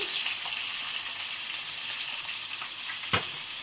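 Ivy gourd curry sizzling steadily in a pan, a continuous bright frying hiss with one sharp clink of a utensil near the end.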